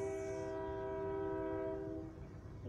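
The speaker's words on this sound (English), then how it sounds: "I'm sorry about that train in the background" Passing train sounding a long, steady horn in the background throughout, with rumbling rail noise underneath; moderately loud and continuous, fading slightly toward the end.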